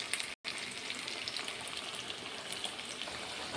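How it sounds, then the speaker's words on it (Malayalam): Cauliflower frying in a pan on a home stove for a lunch meal, a steady close sizzle and crackle of hot oil running throughout, with a brief dropout near the start. "നമുക്കിത് തിളയ്ക്കുമ്പോഴേക്കും കോളിഫ്ലവർ ഒരടുപ്പിൽ വറുക്കാം"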